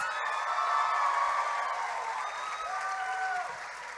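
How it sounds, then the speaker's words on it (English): Applause from an audience at a Taiwan cultural night event, a dense steady patter of clapping that fades slightly toward the end, with a few faint calls mixed in. "I think that deserves another round of applause."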